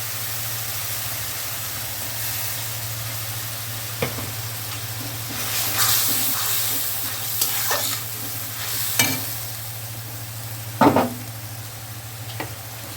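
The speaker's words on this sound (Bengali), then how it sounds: "সর্ষে কাঁচা লঙ্কা বাটাটা হলুদ টলুদ দিয়ে দিলাম তেলে।" Mustard and green chilli paste with turmeric hits hot oil for a Bengali tilapia fish curry, giving a steady sizzling hiss broken by scraping stirs and a few sharp spatters toward the end.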